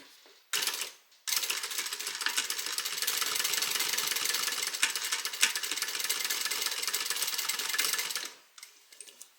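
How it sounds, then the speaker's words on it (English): A sewing machine runs a steady stitching line along the bottom edge of an evening bag, sewing through to the other side of a pocket. The motor whirs continuously for several seconds after a brief start, close and fairly loud with no talk. "you're going to stitch just along this bottom edge, and you're going to use a 1/8 inch seam allowance."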